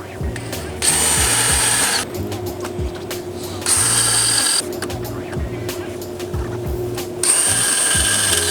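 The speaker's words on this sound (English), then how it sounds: "grab a T30 Torx and a 3/16 or 1/8 inch drill bit and drill out those" A power drill with a 3/16 or 1/8 inch bit bores out rivets on a Ford Maverick front bumper, whining in three sustained bursts with ratcheting, clicking mechanical sounds between them.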